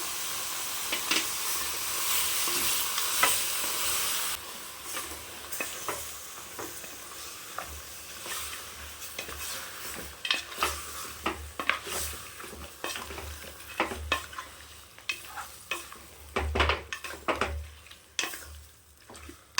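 Mutton with salt fries in a hot pan while being stirred, a steady sizzle and hiss broken by repeated scraping and clattering strokes of the spoon, close and moderately loud.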